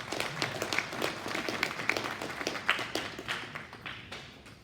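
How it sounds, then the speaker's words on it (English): Audience applause at a January cattle show after a steer class winner is announced, a dense patter of many hands clapping at moderate distance, steady for several seconds and easing slightly toward the end. "Let's give her a nice round of applause."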